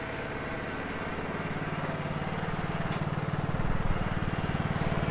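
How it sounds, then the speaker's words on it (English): A running lawn mower engine holds a steady mid-pitched drone near a garage, growing slightly louder and rougher toward the end, with no talking. "So this lawnmower is actually a quite nice one."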